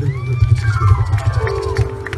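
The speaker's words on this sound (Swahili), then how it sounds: "Makofi na mgegele barabara." A crowd at a family celebration with cake gives loud, scattered clapping, while high wavering ululation rises above cheering and voices nearby.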